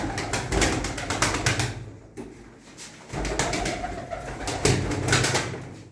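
Pigeons cooing in a loft in Şenyurt, Mardin, with repeated soft rolling coos close by, interrupted by a brief pause, with rustling and occasional wing flutters.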